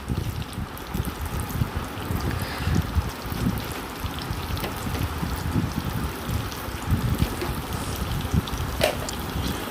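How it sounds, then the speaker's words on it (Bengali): Sliced green chillies and chopped onion sizzle in hot oil, a dense, steady crackling hiss that carries on without a break. "এখন আমি কয়েকটি কাঁচামরিচ ফালি দিয়ে দিলাম গরম তেলের ভিতরে"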